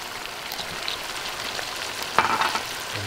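Wine hits a hot pan of beef short rib stew with a steady, close sizzle, a brief splash and bubbling burst near the end standing out above the constant hiss.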